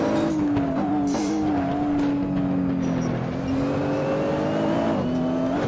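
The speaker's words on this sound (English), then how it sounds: "Time for the modern day Godzilla, the Nissan R35 GT-R GT3." A Nissan R35 GT-R GT3 race car in the Assetto Corsa video game at Bathurst, its engine droning steadily at high revs with slight pitch shifts through gear changes and faint tire noise, loud and continuous.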